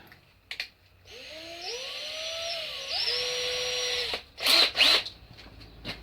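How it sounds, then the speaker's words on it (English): A power drill with a small metal drill bit whirs in rising and steady tones for a few seconds, followed by short bursts of grinding, close by. "we'll start off with a little metal drill bit first"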